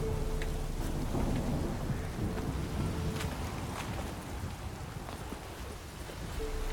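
Steady rain pours down continuously in The Witcher 3: Wild Hunt, with deep rumbles of thunder rolling underneath throughout.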